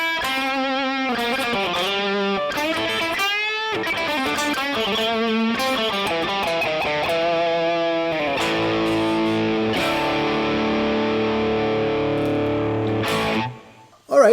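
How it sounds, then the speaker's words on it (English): Electric guitar played through the red distortion model of a NU-X MG-300 modeling processor, a true distortion rather than overdrive, ringing out sustained harmonically rich chords and single notes at steady loudness, then cutting off abruptly at the end. "Maybe we can do the red distortion, which is more of an actual distortion as opposed to a drive pedal."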